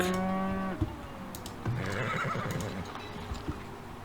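In the video game Farthest Frontier, a horse whinnies loudly, then hooves clip-clop amid farm-animal bustle and clatter, with no talking.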